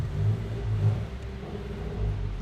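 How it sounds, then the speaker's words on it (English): A car engine revs inside a parking garage, a steady low rumble with a few swelling pulses that echo off the concrete, fairly faint and unaccompanied by speech. "Little parking garage rev."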